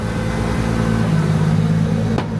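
A BMW race car's engine drones and climbs steadily as it accelerates, loud and near, then cuts off abruptly with a sharp click near the end.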